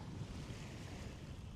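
Arctic Ocean waves wash in a soft, steady roar mixed with wind rumble, faint and continuous with no voices.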